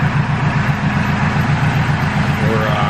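A turbo K24 engine in an Integra fitted with a Skunk 2 Mega Power muffler runs at a steady, loud idle with a low pulsing exhaust drone and no revving.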